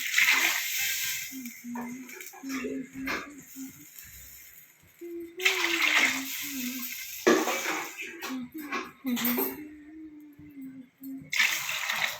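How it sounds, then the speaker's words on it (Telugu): Water is poured into a pot to cook rice for bagara rice, in several splashy, gushing bursts separated by quieter gaps. A voice is also audible in between the pours. "త్రీ గ్లాస్ రైస్కి నేనైతే సిక్స్ గ్లాస్ వాటర్ పోసుకున్నా ఇప్పుడు"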